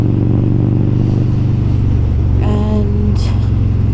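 Harley-Davidson Road King motorcycles riding on a New Zealand road, a loud, steady engine drone with a constant low rumble throughout and a brief tonal whine partway through.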